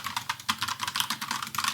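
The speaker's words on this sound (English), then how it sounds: "This is the Logitech Pop Keys." Fast typing on a Logitech Pop Keys keyboard, with a rapid, even run of bright, clacky keystrokes heard close up and alone.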